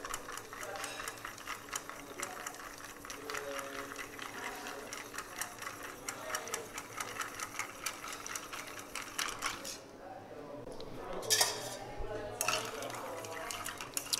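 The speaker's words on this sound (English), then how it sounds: "We stir a little bit because the lower is the temperature, higher is the citrusness of the cocktail." Ice clinks and swirls steadily as a cocktail of tomato, raspberry and capers is stirred in a mixing glass in a Rome bar, a fast, even rattle that runs almost without pause before briefly fading.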